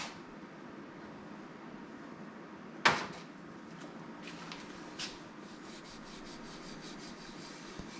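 Something is rubbed firmly into a wooden matchbox, giving a soft, continuous scuffing rub at low volume, with one sharp knock near the start and a few faint taps later.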